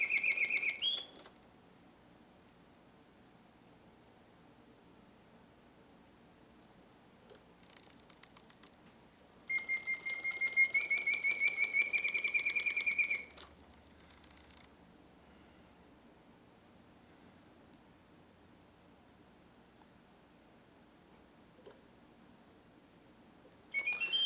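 A Reuge double singing bird cage automaton trills a rising, warbling birdsong with a bellows hiss, breaking into a long pause before the song resumes, heard alone in a quiet room.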